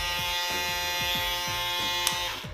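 A freshly cleaned BaByliss Pro electric shaver runs steadily, its close, loud, continuous buzz pulsing slightly. A small click comes near the end, and no one talks.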